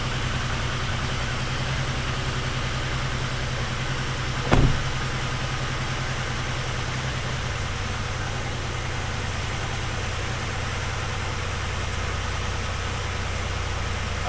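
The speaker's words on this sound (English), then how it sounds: "I hear a little bit of injector noise." A Dodge Ram engine idles steadily and a little rough, with faint injector ticking running under a constant low rumble, plus one brief sharp knock partway through.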